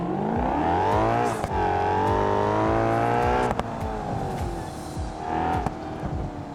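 A roughly 400-horsepower car driven on worn, years-old tires in a BeamNG driving game, its engine droning loud and steady with rising and falling pitch as it revs, a brief drop and shift midway, no talk.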